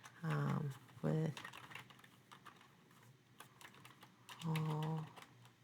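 Clicky computer keyboard typing while writing an SQL query runs in quick irregular taps at close range, partly under a voice that talks in short stretches.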